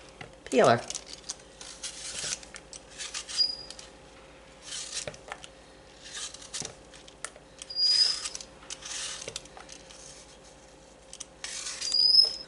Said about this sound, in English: Peel them with my little peeler.